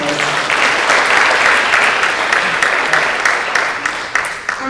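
Audience applause for a young contestant at a public speaking contest, a full, steady burst of clapping that swells and then thins toward the end.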